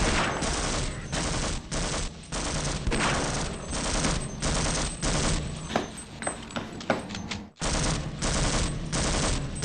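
Rapid automatic gunfire from Half-Life 1 rattles in dense, loud bursts close up, with short breaks between volleys and one sharp cut-off near the end.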